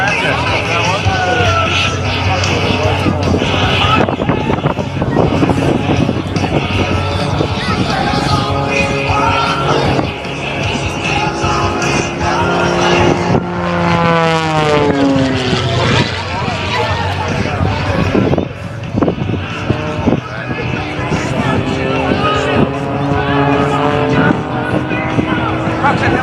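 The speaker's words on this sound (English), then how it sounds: "Jeff Bourbon and Neil Darnell driving the flash fire jet" The Flash Fire jet-powered truck roars continuously at an airshow, a loud sustained engine blast with rising and falling tones as it drives past, mixed with crowd noise and an announcer talking over it.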